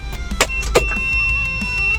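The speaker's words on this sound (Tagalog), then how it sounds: "gumagana yung turbo timer natin kaya nadidinig nyo yung sasakyan" A Mitsubishi L300 engine keeps idling after shutdown under a turbo timer, a steady close low hum with a few brief clicks and whirs early on, then an even drone.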